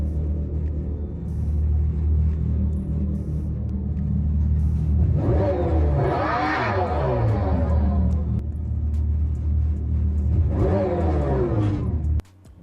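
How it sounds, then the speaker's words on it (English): The 2024 Dodge Charger Daytona SRT Banshee electric muscle car emits its simulated exhaust note, a low steady rumble swelling into two loud rising roars, like revving, with faint talk beneath. "Dodge is the first company to ever have electric car with exhaust"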